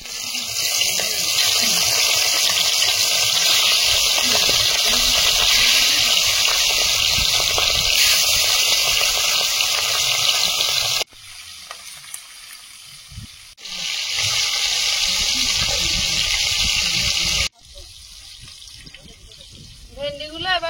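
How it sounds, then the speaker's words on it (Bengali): Fish frying in hot oil in a kadai, a loud, dense sizzling hiss that runs steadily, drops out abruptly twice and returns, with faint kitchen clatter in the quieter gaps. "কড়াইতে তেল দিয়ে দেব, মাছগুলো ভেজে নেব"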